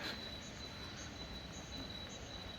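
A metro train runs through a station in Oslo, Norway, giving a steady, even rumble of wheels on rails with a thin high whine throughout and no voices.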